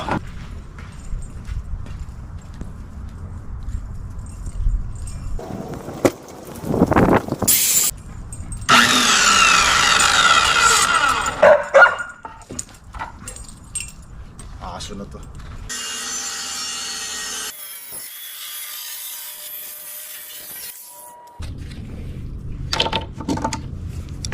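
A circular saw whines loudly through wood in two long cuts separated by quieter knocking and handling noises, close by.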